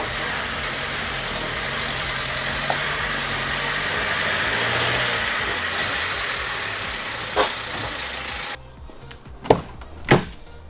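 A Vauxhall Corsa engine idles steadily at close range for most of the stretch, then cuts off, leaving a quiet space broken by a few sharp knocks and clunks as the car is brought up onto ramps.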